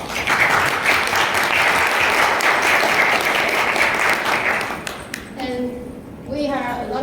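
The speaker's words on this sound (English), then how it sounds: "Give us applause." An audience of about fifty people at a forum on empowering children claps steadily for several seconds, the applause fading near the end as someone begins speaking.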